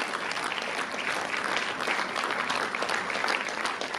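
Steady, dense applause from a large audience fills a ceremony at an International Women's Day program, continuous and close throughout.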